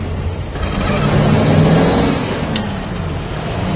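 A 1966 Chevrolet Chevelle engine revs up and accelerates, its rising drone loud and steady throughout, with no voices.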